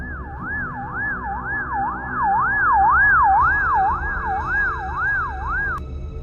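A loud wailing siren sweeps up and down in a steady, rapid cycle, like an ambulance close by, then cuts off abruptly near the end.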